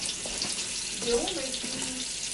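Bratwurst browns in a hot pan with a close, steady sizzle, while a faint voice murmurs briefly underneath.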